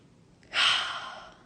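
One deep breath drawn in during a guided relaxation session, a soft airy rush that swells quickly and then fades slowly, close and alone.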